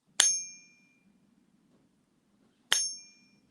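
Two bright metallic pings from a ringing silver coin, about two and a half seconds apart, each ringing clearly and fading slowly into near silence.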